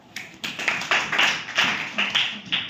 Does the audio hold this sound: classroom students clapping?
yes